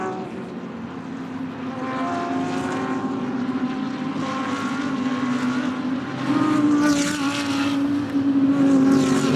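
Porsche GT race car passing on track during an ADAC GT Masters race at Oschersleben, a sustained loud engine roar that builds and swells toward the end with no talk over it.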